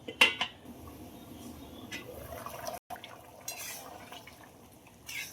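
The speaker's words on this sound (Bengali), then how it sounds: "ডিমগুলো দিয়ে ফোটার জন্য ঢাকা দিয়ে দিলাম।" A metal lid is set down on a pot of eggs cooking in a Bengali egg curry with boiled potatoes, giving a sharp clank at the start followed by faint simmering and a few soft kitchen knocks, with no talk.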